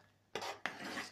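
A spoon scrapes and stirs through thick oatmeal porridge with apples and raisins in a pot, two rasping strokes close by, each one dragging out into a soft grainy swish.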